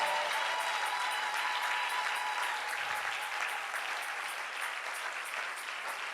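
A church congregation claps in sustained, dense applause that holds steady and loud from start to finish, with no voices rising above it.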